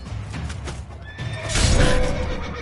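Horse in the video game The Witcher 3: Wild Hunt, a clear close whinny over clopping hooves and ambient game background sound, with no talking.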